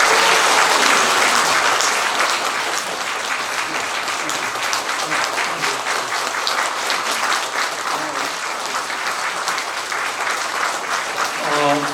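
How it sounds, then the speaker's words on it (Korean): A church congregation at a 50th-anniversary Sunday worship service claps for two pastors being presented flowers, loud continuous applause that holds steady for about twelve seconds with a few voices blended in. "여러분들 힘차게 박수 좀 쳐주시기 바랍니다."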